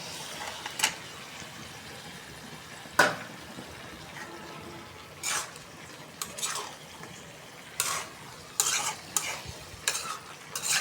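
Cauliflower going into a frying pan of sautéed vegetables and being stirred, heard as a soft background sizzle broken by a string of sharp utensil scrapes and clinks spread across the clip.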